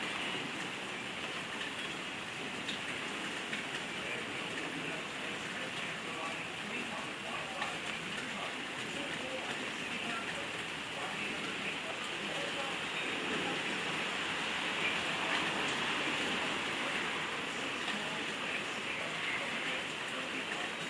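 Steady rain falls outdoors during a downpour, a dense continuous hiss that holds evenly throughout, with a child's play in the rain nearby.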